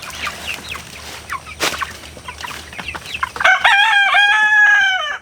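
Chickens clucking and chattering close by, then a rooster crows loudly near the end.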